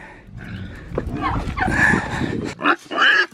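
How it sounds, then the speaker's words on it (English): Loud, close squealing and grunting from pigs in a few harsh bursts, with a voice speaking among them. "Those pigs are so loud in the morning."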